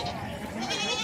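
A goat bleats in a quavering, drawn-out cry over a noisy outdoor background at a livestock fair in Tabira, Pernambuco, Brazil, with faint voices around it.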